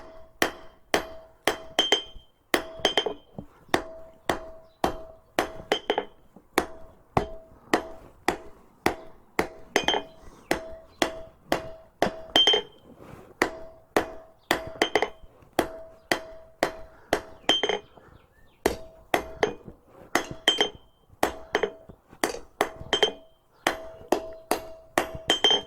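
Railroad spike being hammered on an anvil to forge blacksmith tongs, a long run of steady, evenly paced metallic blows ringing close and sharp, with occasional lighter taps between strikes.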